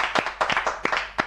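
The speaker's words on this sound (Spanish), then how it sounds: "Un aplauso a todo el estudio." Scattered applause from a small studio audience greeting a guest: a few hands clapping in short, uneven bursts, fairly close, with no voices over it.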